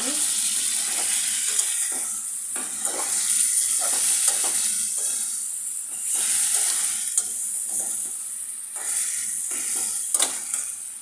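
A spoon stirs chicken and papaya curry with spices in a hot pan, its repeated scraping strokes running over a constant oil sizzle and hiss.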